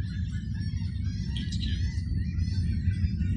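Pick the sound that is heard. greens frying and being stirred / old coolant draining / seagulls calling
seagulls calling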